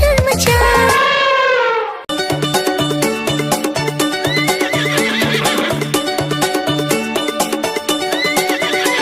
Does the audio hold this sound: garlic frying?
no